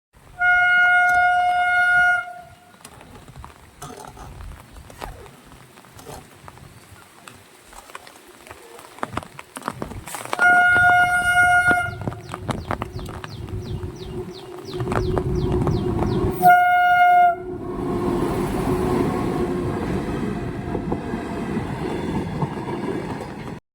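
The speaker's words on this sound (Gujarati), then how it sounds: "ફાટક એકચ્યુઅલી છે ને બંધ છે અહીંયા કેમ કે ટ્રેન આવે છે" A lone locomotive's horn blares in long steady blasts, three times over the clip, amid the rumble and clatter as it passes a closed level crossing, with scattered background noise.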